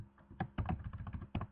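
Quick keyboard clatter as a web address is typed on a computer keyboard, with short uneven bursts of keystrokes and brief pauses, close and clear with no talking.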